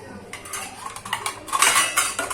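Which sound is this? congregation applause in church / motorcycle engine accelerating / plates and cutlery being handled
plates and cutlery being handled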